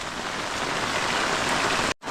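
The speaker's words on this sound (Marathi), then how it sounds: "मित्रांनो बघा पाऊस कसा लागतोय" Steady, heavy rain pours down in a dense, even hiss that briefly cuts out just before the end.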